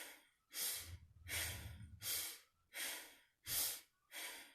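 Quick, sharp nasal inhalations during a meditation breathing exercise, six or seven close, loud sniffs in a steady rhythm with brief silences between, and a low rumble under the first few.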